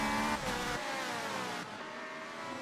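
Race cars in a Le Mans esports video game, a close engine drone with shifting, revving pitches as cars work out of a corner, fairly loud and continuous, with no voices heard.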